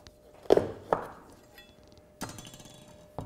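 A knife cuts a pumpkin in half on a board: two sharp chopping thuds close together, a pause, then a duller crunching cut as the blade pushes through the flesh, close and fairly quiet.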